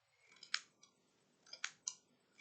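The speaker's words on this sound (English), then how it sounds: "the part that I roller cut is cutting easily with the scissors." Scissors snipping through belt fabric in a quiet room, a few short crisp cuts in two small bursts, close and clear with no talk.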